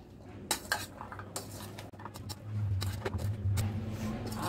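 A spoon scrapes and clinks against a bowl while mixing aloo kabli with cumin-coriander powder and salt, giving close, irregular metallic taps that build into steadier stirring.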